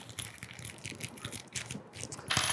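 A plastic pack holding mounting screws and a tailpiece for a dormakaba Saffire lock is torn open, giving close, quiet crinkling and rattling with a sharper tearing rustle at the end.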